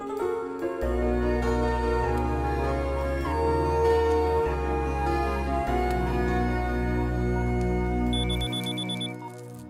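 A telephone rings with a steady electronic tone, repeating in even pulses for several seconds, fairly loud and close, with no voices.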